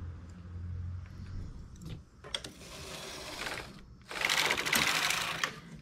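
Knitting machine working a vest in English rib: the carriage rattles and whirs across the needle bed in steady mechanical passes, close and fairly loud, growing busier toward the end, with no voices.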